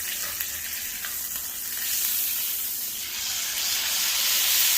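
A tomahawk steak sears in a hot pan with a steady, close hiss and crackle of frying fat that swells slightly louder toward the end. No one speaks.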